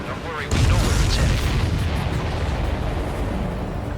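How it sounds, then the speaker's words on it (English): A supply ship explodes in the Ace Combat 7 flight game with a sudden heavy boom that rumbles on in a long, loud, roaring decay. "Did you see that explosion?"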